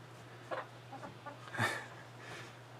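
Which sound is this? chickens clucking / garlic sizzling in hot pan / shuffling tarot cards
chickens clucking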